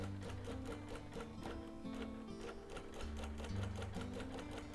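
A sewing machine runs steadily, basting stitches inside a quarter-inch seam allowance on linen-blend quilt fabric. Its needle hammers along in a fast, even rhythm, close and continuous for the whole stretch with no talking.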